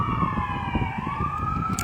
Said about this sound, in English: patrolling up and down Euclid Avenue, sounding its sirens and lights